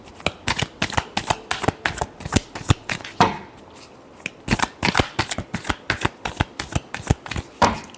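Tarot cards shuffled by hand in quick, crisp riffling bursts, a rapid run of close, sharp flutters and taps with a short pause partway through.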